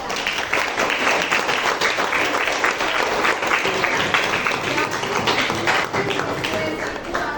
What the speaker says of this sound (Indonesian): tepuk tangan buat Jessica